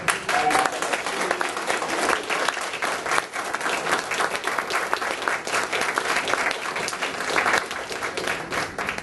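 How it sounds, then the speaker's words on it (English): Sustained applause from an audience at a game developers' meetup, dense steady clapping filling the room for several seconds with a few voices underneath. "give a huge one last round of applause to JS for 7 years of running this"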